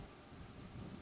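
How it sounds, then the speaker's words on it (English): Thunder in the video game Minecraft during a storm, a faint low continuous rumble with rain-like noise over about a second, alone without talk. "the thunder is so loud in my home, in my house"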